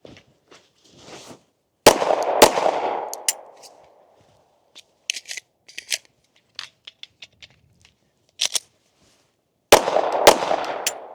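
Handgun shots at a shooting range ring out as loud, sharp cracks, one pair early and another pair near the end, each with a short echoing tail, separated by quieter clicks and handling knocks.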